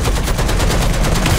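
Rapid machine gun fire from a T-26 light tank in War Thunder, a loud close burst of evenly spaced shots rattling without a break for the whole stretch.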